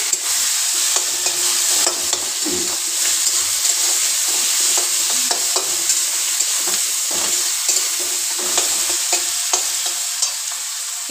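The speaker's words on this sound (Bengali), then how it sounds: "পেঁয়াজ কুচি দিয়ে দেবো, ভালো করে ভেজে নেবো।" Chopped onions frying in a pan for a potol dorma, giving a loud continuous sizzle with repeated spatula scrapes and stirring clicks close by, and no talk.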